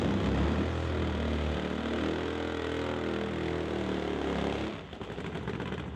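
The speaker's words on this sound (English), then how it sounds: "the attention now turns to the starting line with Nate Gagnon and his Top Fuel Harley" Top Fuel Harley drag motorcycle with a V60 engine at the starting line, a loud continuous thunderous roar with a rapid staccato firing pulse for about five seconds before abruptly cutting off.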